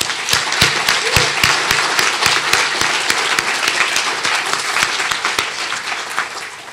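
An audience at a youth mental health event gives steady, prolonged applause. Individual sharp claps stand out close by against a dense wash of clapping.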